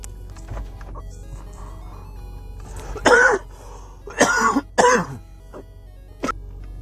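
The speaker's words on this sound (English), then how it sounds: "That coughing fit was hitting a little hard." Several harsh coughs and throat clears burst out in a cluster, loud and close, separated by short quiet gaps with low background hum.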